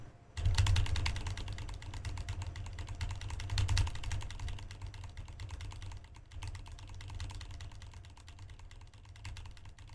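Rapid, steady keyboard typing clatters on for several seconds, fairly quiet and close, with a brief pause midway.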